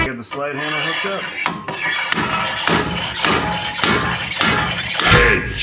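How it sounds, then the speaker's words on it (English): A slide hammer pulls on a car's rear wheel hub, giving a run of loud, sharp metallic clanks and scraping impacts in an uneven rhythm. "Slide hammer hooked up."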